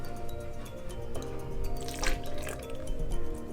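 Milk poured into a measuring cup for Ghanaian pancakes, a close liquid stream with drips and a brief splashy gush midway, no talking.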